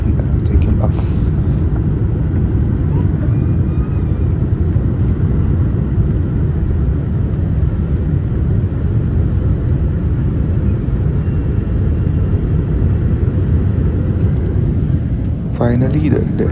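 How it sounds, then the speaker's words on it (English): A Qatar Airways airliner takes off from Abuja at night, its engines a loud, steady, deep roar heard from inside the cabin throughout, with a few faint clicks near the start and end. "Finally, the aircraft took off and gradually climbing up"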